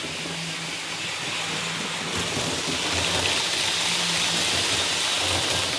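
A model TGV high-speed train runs flat out at its top scale speed of about 170 km/h around a layout, giving a steady, continuous whirring rumble that swells slightly midway, with no talking.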